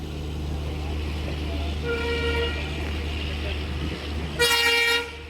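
A train horn sounds at a railway crossing where a train waits on the line, heard from aboard a train: a shorter blast around the middle, then a louder, brighter blast near the end over steady rumbling carriage noise.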